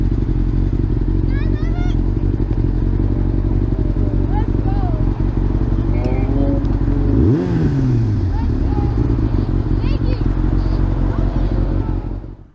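A motorcycle engine at a roundabout revs hard near the middle, rising and falling in pitch over a steady idle, with traffic and crowd murmur around it.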